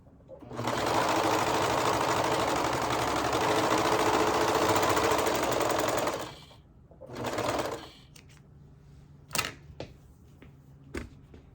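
A serger stitching fabric ends together for a skirt runs in one long, steady, loud whir for about five seconds, then gives a short second burst, followed by scattered clicks and handling noises.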